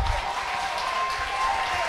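Football stadium crowd applauding as a substituted player leaves the pitch during a Paulistão match, a steady, broad wash of distant clapping and crowd noise with a faint tone running through it.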